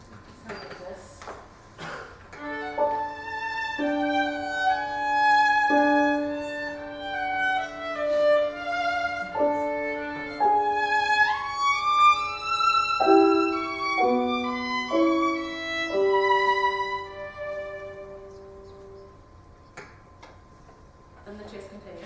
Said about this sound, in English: The dark woods sound like this.